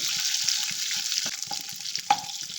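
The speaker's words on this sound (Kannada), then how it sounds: "ಇದಕ್ಕೆ ಎಡೆ ಎಡೆ ಹಸಿಮೆಣ್ಸಿಗೆ ಕೂಡ ಹಾಕ್ಕೊಳ್ತಾ ಇದ್ದೀನಿ ಸ್ವಲ್ಪ ಫ್ರೈ ಆಗಿ" Green chilies fry in oil for a red tomato chutney, a moderate steady sizzle broken by small pops and a few clinks of stirring.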